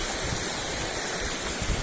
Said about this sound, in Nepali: यस्तो पावरफुल खोला आउँछ नि फेरि